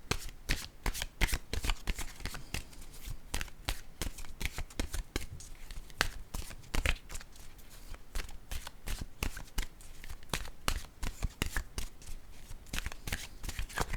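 A deck of oracle cards is shuffled by hand close up, with rapid, repeated papery slaps and riffles that go on steadily with no talking.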